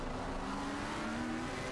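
McLaren GT3 race car engine accelerating at Snetterton in a racing video game, a steady loud droning roar holding a sustained pitch, with no talk over it.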